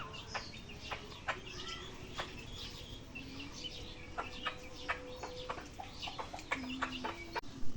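Chickens cluck and murmur close by in a rural Bangladeshi household yard, a few soft calls and squawks spread across the clip, with a faint bird chirp in the quiet background.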